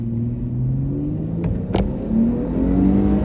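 A supercharged Mopar V6 car launches hard, its engine note loud and close and climbing steadily in pitch as it pulls, with a couple of sharp clicks partway through.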